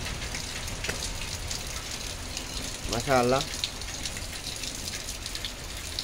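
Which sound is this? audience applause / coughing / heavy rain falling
heavy rain falling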